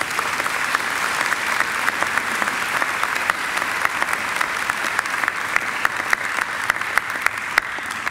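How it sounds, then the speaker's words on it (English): An audience at a Macquarie University graduation ceremony applauds steadily and evenly throughout, a dense continuous clapping that stays level from start to finish. "I think Yvette deserves another great round of applause."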